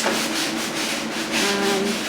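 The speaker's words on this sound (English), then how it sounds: "right now Dad is sanding off some of the green that we accidentally got on the front" Sandpaper rubbing back and forth on a painted wooden cymbal stand, removing green paint, a steady close scratchy rasp with rhythmic strokes.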